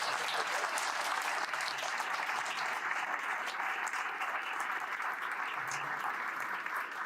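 A screening audience breaks into a full, dense round of applause, even and sustained for several seconds without speech.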